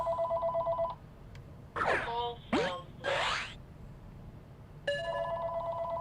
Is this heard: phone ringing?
yes